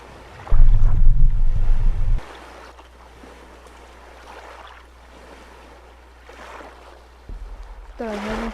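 Ocean waves washing onto the shore in the video game Stranded, a loud rumbling surge at first and then a softer steady wash of surf and wind, with a voice near the end.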